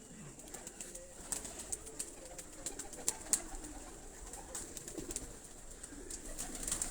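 High-flying domestic pigeons coo softly and repeatedly at a loft, the calls mixed with faint sharp high clicks and flutters against a constant outdoor hiss.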